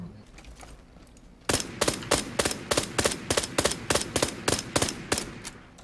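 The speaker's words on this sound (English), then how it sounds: "Guy with a silencer shooting somewhere up in the hills" Suppressed rifle fire in PUBG, a guy with a silencer shooting from somewhere up in the hills: a steady run of about fifteen sharp, evenly spaced cracks, moderately loud over low background rumble, starting after a quieter lead-in.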